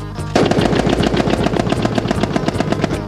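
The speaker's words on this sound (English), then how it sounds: "The Browning automatic rifle." A Browning automatic rifle fires a loud, continuous burst of rapid shots with an even, fast rhythm from start to finish, close and dominant with no voices.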